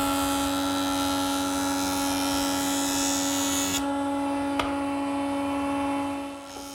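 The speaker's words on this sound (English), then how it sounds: "We'll clean it up at the joiner." A jointer cuts a bevel along the top edge of a wooden front rail for a planter's desk, its fence tipped to 6 degrees. The machine whines steadily and loudly with a sustained tonal hum that cuts off abruptly near the end.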